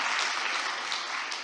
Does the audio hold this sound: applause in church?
yes